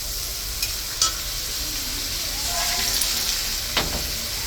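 Water is poured into a hot pan holding hilsa fish heads and elephant foot yam, giving a steady hissing sizzle with a few brief clinks and stirring sounds close by.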